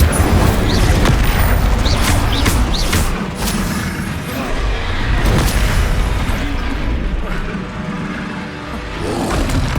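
Confringo and Incendio spell blasts go off in the Hogwarts Legacy video game, a dense, loud barrage of booming, crackling bursts and fiery whooshes that continue without pause throughout.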